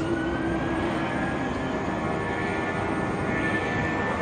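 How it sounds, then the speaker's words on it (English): Deep, low-pitched jet engine roar used as a bass-heavy sound effect, a steady broadband rumble with a faint high whine, continuous and loud without any break. "we can add jet engines to their performance, specifically its low pitch sound"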